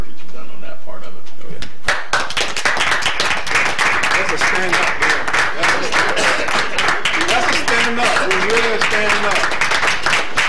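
Applause at a Palatka city commission workshop: steady, dense clapping from a room of people that starts abruptly and continues for several seconds, with voices talking underneath.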